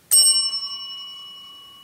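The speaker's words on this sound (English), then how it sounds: "I've got a ring for service bell right here" A ring-for-service desk bell tuned to the key of C is struck once, giving a bright, clear ding that rings on alone and fades slowly.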